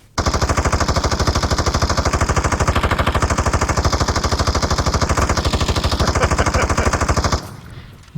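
In the video game Ring of Elysium, a gun fires in one long unbroken automatic burst, with rapid, loud, evenly spaced shots for about seven seconds before it stops abruptly.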